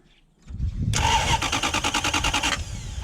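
A Toyota Hilux LN106 pickup fitted with a 1UZ-FE engine is cranked and fires up: a brief starter whir, then the engine catches into a loud, steady, close idle with a rhythmic pulse.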